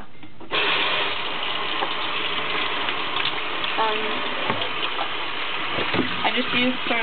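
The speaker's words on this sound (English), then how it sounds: "I have to empty out the water to rinse it" Water pours and gushes steadily for several seconds as shoes are rinsed, a continuous splashing flow with a few clinks and knocks near the end.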